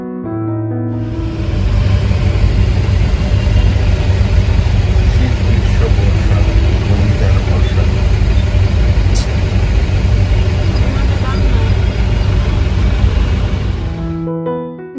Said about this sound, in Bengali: এখন সেই জ্যামের মুখেই পড়লাম।